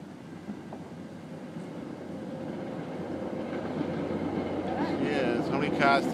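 A train's railroad cars roll past in a continuous low rumble and rattle that grows steadily louder and closer, with a brief metallic squeal near the end.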